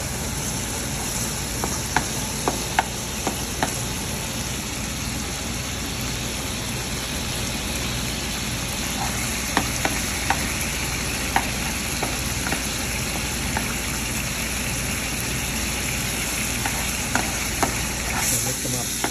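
An egg fries in a hot pan during fried rice preparation, a steady broadband sizzle running throughout with scattered small pops and crackles, close and continuous with no talk.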